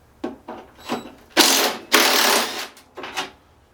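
A hand tool ratchets as bolts are worked loose on a Toro snowthrower, giving short clicking bursts followed by longer, louder ratcheting runs, close and clear with no talk.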